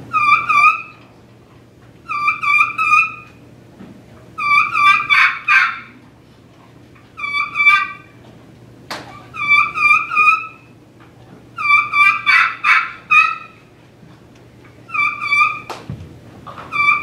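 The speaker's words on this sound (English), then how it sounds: "Plain yelp of the hen." Wild turkey hen yelping in repeated short bursts of clear, evenly spaced notes, some runs denser and louder than others, over a low steady hum, with no talk.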